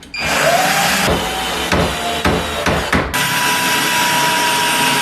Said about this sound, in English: And then we'll drill our first screw in.